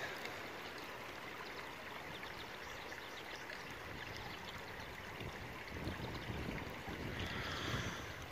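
Steady rushing water fills the whole stretch, a constant close burble and hiss of a flowing creek with no voices.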